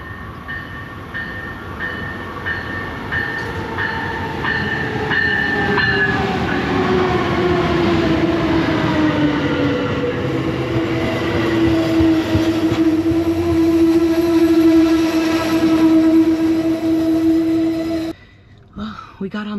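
An Amtrak Coast Starlight train rolls into a station with a rising then slowing rumble and screeching wheels, squealing brakes bringing it to a stop before a sudden cutoff.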